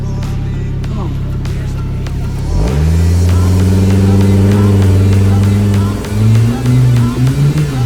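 A Volvo car engine revs hard during an off-road burnout, a loud sustained roar that rises and wavers as the throttle is held, with people shouting nearby.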